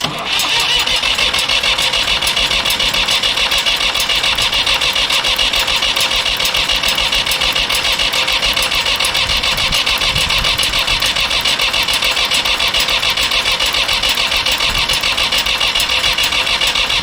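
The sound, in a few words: Allis Chalmers 160 tractor engine cranking, trying to start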